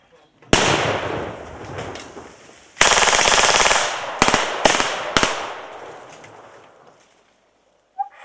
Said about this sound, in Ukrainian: Вибухи снарядів і кулеметні черги